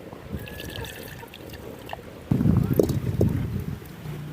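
Water is poured in a steady stream onto tamarind while making a pickle, starting abruptly partway through and continuing loud and close after a quieter stretch of faint background noise.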